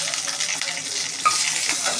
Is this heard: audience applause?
no